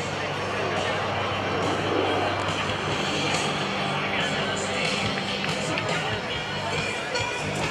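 F/A-18F Super Hornet jet at a military airshow open house, a steady, loud roar that fills the air throughout, mixed with crowd noise and a commentator talking over it.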